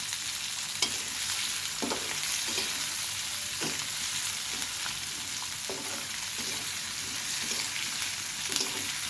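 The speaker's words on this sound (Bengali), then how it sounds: "ভেজে নেবো আগে পেঁয়াজগুলো" Onions fry in a pan with a constant soft sizzle of oil, punctuated by gentle, irregular stirring scrapes, steady and moderately quiet throughout.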